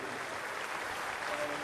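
A cricket crowd at a New Zealand Test match in Hagley applauds and stands for Brendon McCullum's innings, a steady wash of clapping under a commentator's voice.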